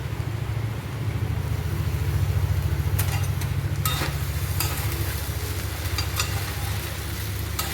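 Sabudana khichdi being stirred in a pan, a steady sizzle with scraping strokes of the spoon, several sharper clinks partway through, no one talking.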